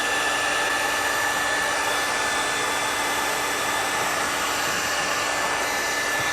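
Heat gun blowing steadily while post-heating vinyl wrap on a 2007-2014 Toyota FJ Cruiser rear door skin, a constant close airy whir with a faint tonal whine, no talking.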